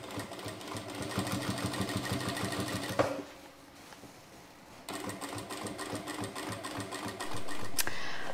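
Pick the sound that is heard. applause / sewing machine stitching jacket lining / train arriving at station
sewing machine stitching jacket lining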